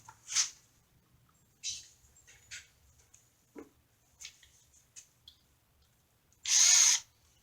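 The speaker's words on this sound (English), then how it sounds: "Now it's just a matter of screwing it down." A power drill drives screws into a stretcher in short, separate bursts, with one longer, louder whir near the end and quiet clicks and handling noises in the gaps.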